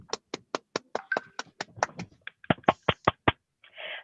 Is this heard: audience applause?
yes